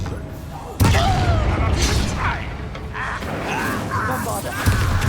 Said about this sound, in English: Blow up the red barrel.